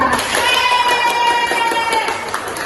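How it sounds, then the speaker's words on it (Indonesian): Children in a classroom applaud a classmate after she recites a Quran verse, a brief burst of scattered hand claps with faint voices mixed in. "Tepuk tangan untuk Lisa"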